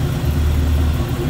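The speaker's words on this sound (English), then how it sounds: "Electric fan." Electric cooling fan on a 1936 Chevrolet Master Deluxe 5-window coupe street rod, a steady loud whir with a low rumbling hum that holds constant without a break for the whole moment.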